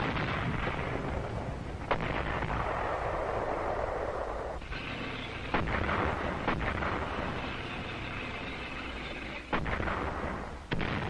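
Artillery and mortar fire from cliffs during the 1949 Guam battle, heavy booms and thuds recurring over a dense, noisy rumble in old archival sound.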